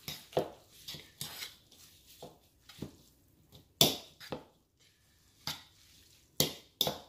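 Spicy ramen noodles being mixed with sriracha: soft, irregular clinks and scrapes of a utensil against a pot or bowl, with a few louder knocks, close and quiet, no voices.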